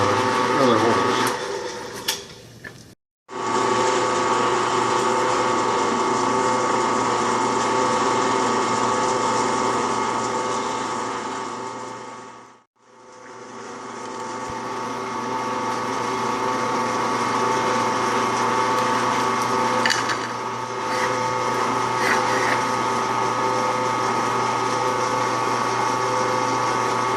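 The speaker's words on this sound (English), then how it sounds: "Change to a smaller bit for the other holes." A power drill fitted with a smaller bit drills holes in a 12V power management unit enclosure, giving three long, steady, close whining runs separated by short pauses.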